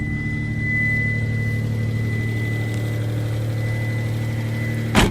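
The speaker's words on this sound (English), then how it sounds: "It's got a little bit of a lifter tick at startup. It's actually pretty noisy" Dodge Stealth R/T with 250,000 miles idling with a noisy lifter tick at startup, a steady low engine hum with a fine rapid ticking layered over it, close and continuous, ending with a brief sharp knock.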